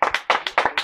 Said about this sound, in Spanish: aplausos, chavales